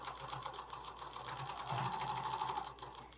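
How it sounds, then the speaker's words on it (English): A sewing machine runs steadily at a normal 2.5 stitch length, a fast, even mechanical whir and chatter heard up close for a few seconds with no talking. "I start sewing in the middle, and I start sewing at my normal stitch length"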